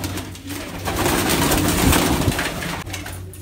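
Pet pigeons coo close by in a loft, several overlapping soft rolling calls running continuously with a brief pause near the end.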